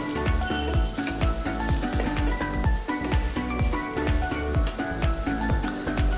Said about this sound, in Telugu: ఈ ఆనియన్స్ వేసి వేగనిద్దనమాట బాగా